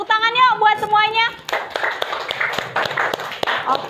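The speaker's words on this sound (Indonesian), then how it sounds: "Tepuk tangan yuk buat semuanya" Schoolchildren in a classroom clapping together, a brisk patter of hand claps starting after a moment of speech, fairly close and lively.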